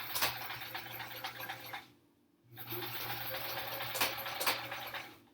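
A sewing machine zigzag-stitches appliqué onto a quilt block, a steady close whirring run that stops briefly and then starts again. No one speaks.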